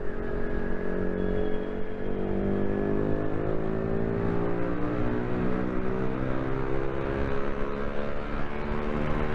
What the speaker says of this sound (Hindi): भाई मज़ा तो आ रहा है एग्जॉस्ट में उसके